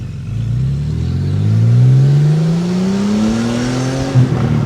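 Engine of a 1991 Porsche 964 C2 Turbo heard from the passenger seat while driving: loud, close revving climbs steadily through a gear, then briefly dips at a shift before pulling again.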